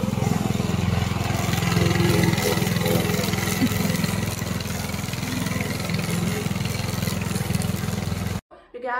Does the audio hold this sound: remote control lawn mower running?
yes